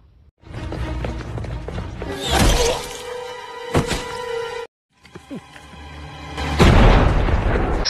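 A bomb blast in an action film: a sharp shattering burst with a deep boom near the start, a second crack midway, then a brief cut to silence and a heavy rumbling blast at the end.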